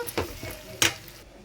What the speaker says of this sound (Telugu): కొబ్బరి పొడి వేసిన తర్వాత మొత్తం ఒకసారి అయితే కలుపుకుందామండి